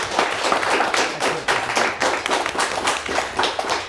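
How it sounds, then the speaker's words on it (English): Audience clapping at a high-school quiz competition between Lapeer East and Owosso, dense, steady applause for the full span with no pauses. "A nice round of applause for both teams."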